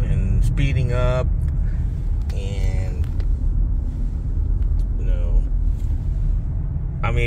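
A car driving under adaptive cruise control in self-drive mode gives a steady low road and engine rumble that eases and builds as it slows and speeds up, while a person talks over it.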